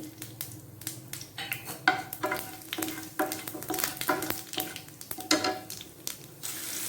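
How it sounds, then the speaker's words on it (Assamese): Dry spices dropped into hot refined oil in a pan for a sweet tomato chutney, giving a steady close sizzle with repeated scraping and stirring clatters throughout. "এতিয়া শুকান মছলাবিলাক ইয়াত এড কৰি দিম।"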